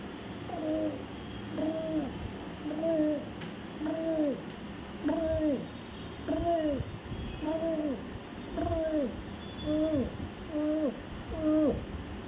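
A voice imitates a pigeon with a series of soft, evenly spaced coos, about a dozen in a steady rhythm over faint background noise.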